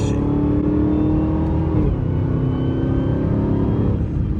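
A Dodge Hellcat on its stock intake accelerates hard, a loud, close engine roar with a rising whine that drops briefly at a gear change and then climbs again, steady and sustained inside the car.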